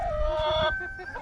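Chickens on a small farm cackle and cluck in a loud, close, continuous run of calls lasting about a second, with a rooster-like crowing tone.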